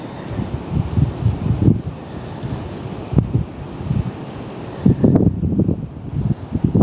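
Strong wind on a sunny beach on California's Lost Coast buffets the microphone in heavy, gusting low rumbles, with a broad roar like surf beneath, loud and continuous throughout.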